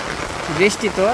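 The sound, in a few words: rain falling in a village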